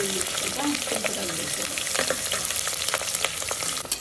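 Ginger, garlic and small onions fry in oil in a home kitchen, with a loud, close, continuous sizzle and crackle while a spoon stirs and scrapes the pan throughout.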